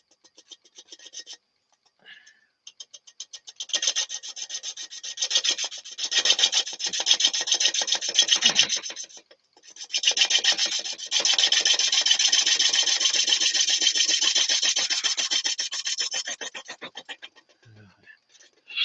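A gouge scrapes rhythmically against a winged wooden bowl spinning on a lathe, a dry, steady rasping that stutters with the blank's wings, pauses briefly, then settles into a continuous, louder cut.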